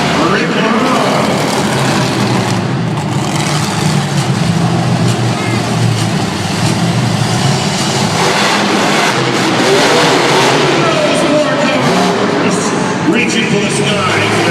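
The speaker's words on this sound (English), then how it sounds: "hear that power. 572 cubic inch engine." A 10,250 pound monster truck with a 572 cubic inch engine revs loudly in an arena, a sustained roaring drone that swells and falls over several seconds, with crowd noise and an announcer's voice mixed in.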